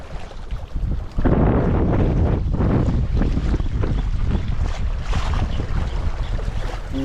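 Strong wind buffets the microphone while fishing from a boat, a loud roaring gust that swells after a second and keeps blowing steadily with a low rumble, no talk.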